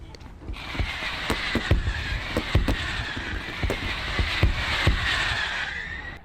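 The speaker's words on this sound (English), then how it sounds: "how you can create realistic looking fireworks within After Effects, like this one here" Fireworks in an After Effects animation burst again and again in a dense irregular series of sharp cracks and pops over a steady hissing crackle, loud and close throughout.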